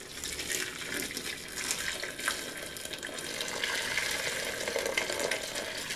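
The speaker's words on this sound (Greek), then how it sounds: "θα προσθέσουμε νεράκι. Νεράκι ζεστό, βραστό." Hot boiling water pours steadily into a cooking pot holding goat meat after the alcohol has cooked off, a continuous close splashing gush lasting several seconds with no talking.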